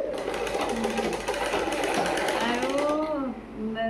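A sewing machine stitches clothes at home, its steady dense whirring running almost without pause under a person talking nearby, then easing off near the end.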